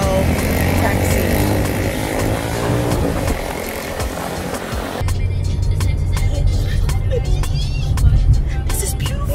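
Motorcycle taxi on a Punta Cana street, its engine droning steadily through the clip and swelling louder near the end amid traffic noise, with people talking nearby.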